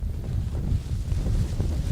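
Gusty wind buffeting across an open golf course at Pinehurst, a constant low roaring rumble against the microphone with no other clear sounds.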